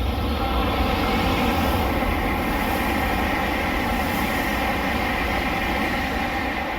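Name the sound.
Shinkansen bullet train rushing by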